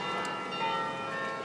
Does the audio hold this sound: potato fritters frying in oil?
no